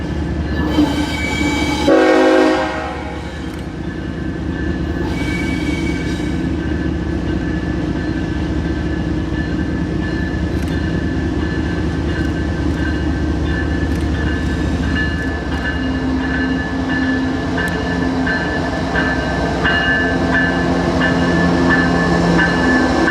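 A CSX autorack freight train, M252, rolls past on a connecting track heading east, its horn sounding early on before a long, steady rumble of cars continues loud and close throughout.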